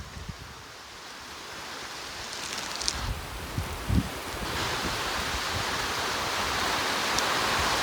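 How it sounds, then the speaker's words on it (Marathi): Steady rain falls in a dense, even hiss that holds for the whole stretch, with a few brief thumps and rustles rising above it near the middle. "काय हा पाऊस काय हा पाऊस."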